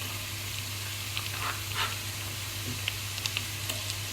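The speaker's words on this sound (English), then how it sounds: "The ghee has melted, so I'm going to add my garlic. So just chopped garlic." Chopped garlic sizzles quietly in melted ghee, a faint steady crackle with a low hum beneath and a few small ticks and stirring clinks.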